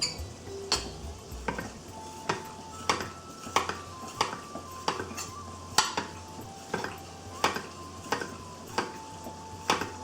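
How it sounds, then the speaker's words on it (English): Fresh ginger, skin removed, being cut into very fine slivers for lamb balti: a steady run of crisp knife taps on a cutting board, close and fairly even, with faint background hum and no talk. "Take off the skin, and we're just going to make very fine slivers of ginger."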